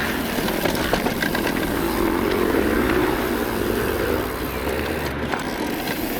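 A loud, continuous roar of motorbike engines nearby, a dense throaty drone that barely varies and fills the whole clip.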